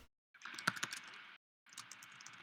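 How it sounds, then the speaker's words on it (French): Fast, forceful typing clatters on a computer keyboard in two bursts of rapid key clicks separated by a short silence, close and fairly quiet. "Oula, oula, il s'énerve sur le clavier."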